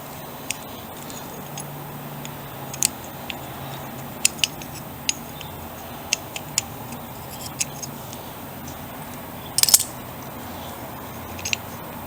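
Cotter pin being worked out of a Toyota pickup emergency brake cable pulley, small metallic clicks and scrapes scattered irregularly over a quiet background, with a brief rattling burst near the end; no talking.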